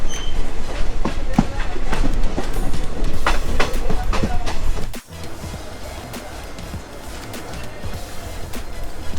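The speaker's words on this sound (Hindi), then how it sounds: "ट्रेन पनवेल से चल दी है" LTT Hubballi Express running on the rails after leaving Panvel, with steady loud rumble and rhythmic clickety-clack of wheels over rail joints, dropping slightly in level midway.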